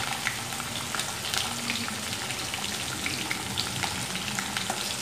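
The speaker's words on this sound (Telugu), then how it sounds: "అవి వేగుతాయి నూనెలో మంచిగా గోలిన తర్వాత." Green chillies frying in hot oil for semiya upma, a loud, dense, continuous crackling sizzle close up with no pauses.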